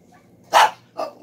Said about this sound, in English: she has to bark at that crazy little dog